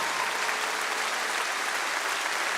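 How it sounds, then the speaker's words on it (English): Audience at the Grand Ole Opry applauding, a steady, full burst of clapping that fills the hall with no voices over it. "please give them a round of applause"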